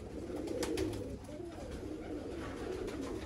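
Low, throaty Teddy pigeon coos murmur continuously against a steady hiss of outdoor noise, with a few faint higher chirps above.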